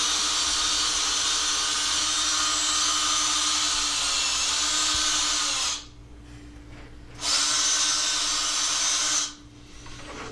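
Power drill boring holes into lumber for a model railroad layout expansion, a steady high whine running nearly continuously, briefly cutting out twice before starting again, loud and close.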